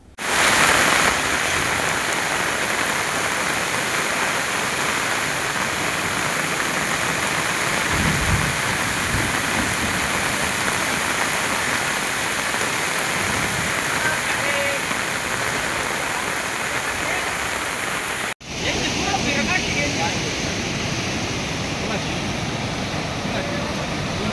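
Heavy monsoon rain pours down steadily in Navi Mumbai, a dense, loud hiss of water on surfaces that barely changes, broken only by a brief cut near the end and a faint low rumble like distant thunder.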